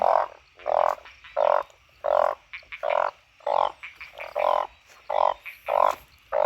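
Narrow-mouthed frogs call after rain, giving loud nasal croaks that repeat in a steady rhythm of about ten calls in quick succession, close by and with no other voices.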